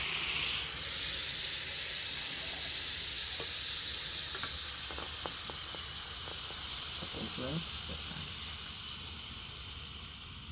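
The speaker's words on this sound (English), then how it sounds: "Oh, looks like it's evaporating already." Very cold liquid boiling off a YBCO superconductor gives a steady soft hiss with scattered faint crackles and pops through the middle, quiet and close, with no talk over it.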